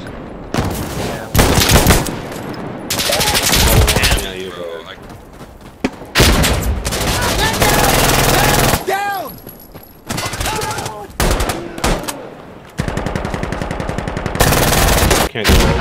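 Gunfire in the tactical shooter Insurgency: Sandstorm, loud bursts of automatic fire and single shots in choppy bursts with brief gaps, and players talking over the shooting.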